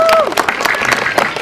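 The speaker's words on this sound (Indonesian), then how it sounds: "Kasih tepuk tangan dulu untuk Pak Jonathan." Audience at an Indonesian film press conference claps in a dense, continuous patter, fairly loud, with a voice talking over part of it.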